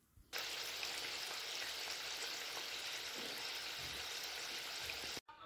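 Gujiya fry in hot oil with a steady, loud sizzle that starts abruptly and carries on evenly, close by, before cutting off near the end.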